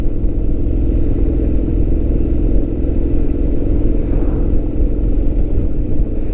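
Honda X-ADV 750 motorcycle engine rumbling steadily in third gear at about 30 mph, a continuous close, loud low drone with no talk over it.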